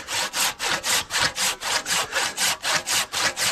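Hand saw cutting through wood with about a dozen quick, even back-and-forth strokes, each a loud, close, rasping burst with no talking.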